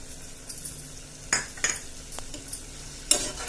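Jaggery melting in a pan with ghee, stirred with a spoon: a low background hiss with a few sharp scrapes and clinks of the utensil against the pan, spaced irregularly.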